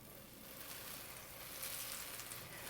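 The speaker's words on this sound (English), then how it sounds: "When frying the polenta, it is best to fry it in a non-stick skillet so it really doesn't stick." Polenta pieces fry in butter in a non-stick skillet, giving a steady bright sizzle and crackle that holds evenly throughout, fairly close and without talk.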